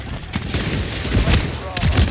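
Dense battle gunfire with rolling booms in a military video game, continuous and loud throughout, with voices calling out over the fighting.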